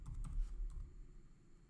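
Brief burst of typing on a computer keyboard while entering SQL trigger code, a quick cluster of close, soft key clicks that trails off into quiet room tone.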